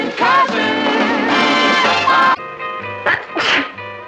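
A single sharp sneeze bursts out near the end of a musical passage in the 1960s sitcom The Patty Duke Show, close and clear over the music.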